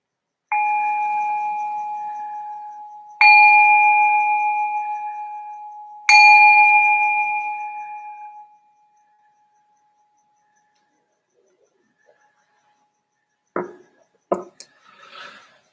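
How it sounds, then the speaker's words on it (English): A meditation bell rung three times to open a session, each clear bright strike ringing out and slowly fading before the next, followed by a long silence and a few faint knocks near the end. "I'm going to ring the bell to signal the start of this first session."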